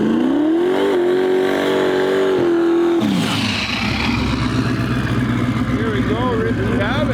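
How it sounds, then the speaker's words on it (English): Drag racing at a no-prep shootout in Western Canada brings a turbo LS Ford Ranger and a turbo LS S10 up loud and close, one engine's pitch rising through a hard rev before breaking into a rough, churning idle under commentary. "Lane Ollenberg, Risky Habit, pulling up in his turbo LS Ford Ranger"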